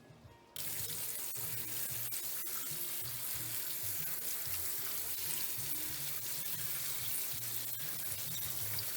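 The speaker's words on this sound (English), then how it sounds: "we're going to go ahead and drain our beans and rinse and get them ready" Steady running water from a kitchen tap pours over canned beans in a strainer as they are rinsed and drained for homemade chili, a continuous close rush with soft background hum and no talking.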